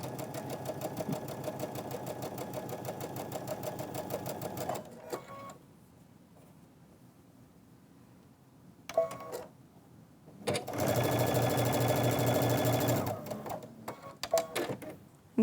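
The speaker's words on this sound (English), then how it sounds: "let's go ahead and sew the top and the bottom." A sewing machine runs a 1/4 inch seam in quick bursts: a steady whirring stretch, a pause with faint handling, a brief start-stop, then another sustained run, close and clear.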